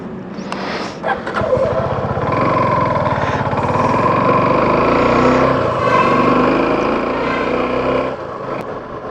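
A motorcycle engine setting off at the start of a long road ride, a steady, loud, close engine drone with a brief rev at the outset that holds evenly for several seconds before easing off.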